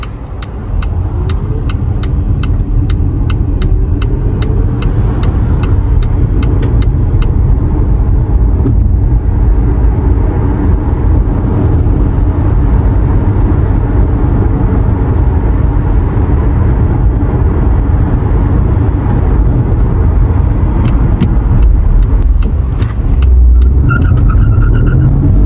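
A Volvo XC40 hybrid accelerates from 0 to 100 in fully electric mode, giving a steady, loud low rumble of road and motor noise that holds throughout with no engine revving and no talk.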